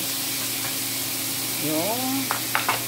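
Vegetables sauteing in a hot pan give a steady close sizzle, with a brief harmonic squeak and a few quick clatters of stirring near the end.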